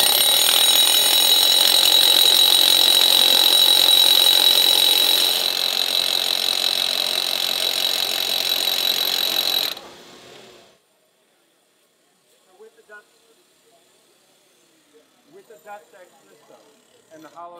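A loud DeWalt drill with a hollow dust-extraction bit whines steadily for about ten seconds while drilling concrete, then stops abruptly, leaving near silence with faint scattered clicks and shuffling.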